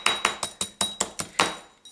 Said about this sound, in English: we're just going to go in and roll it and hammer out the bends and kinks and straighten it out